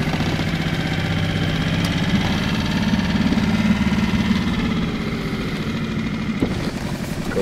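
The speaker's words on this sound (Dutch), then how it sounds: "we gaan nu even uitvaren met de boot" A boat engine idles and runs steadily as the boat heads out on a carp-fishing trip in Groningen, a continuous low, knocking drone close by with no talk.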